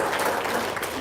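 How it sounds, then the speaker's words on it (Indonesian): Audience applause at a gathering, a brief, steady wash of clapping heard from a short distance, moderately loud with no talk over it. "Yes, tepuk tangan dong."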